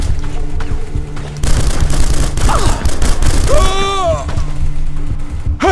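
Rapid turret gunfire in The Punisher video game, a dense rattling burst of shots with booming impacts that starts abruptly and continues loud, with shouted voices and a whooping electronic tone over the top.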